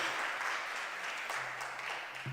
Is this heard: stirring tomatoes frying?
no